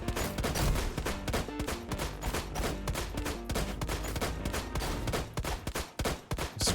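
Robots shooting in the Saikyo Robots scrapyard, with loud continuous rapid-fire gunshots in a dense, relentless barrage, pulsing steadily, with no talk.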